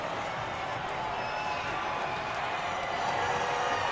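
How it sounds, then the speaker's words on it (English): At a college men's basketball semifinal in the Arc Arena, the crowd makes a dense, steady roar during a free throw. The noise is a continuous wash of many voices without distinct claps, heard somewhat at a distance. "The crowd going crazy here in the Arc Arena"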